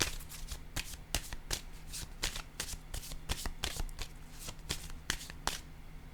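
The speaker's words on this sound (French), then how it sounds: "J'ai le goût de piger une carte noire ici pour elle." Cards being shuffled and drawn from a deck during a tarot reading, a rapid series of crisp riffling slaps and flicks, close and fairly quiet.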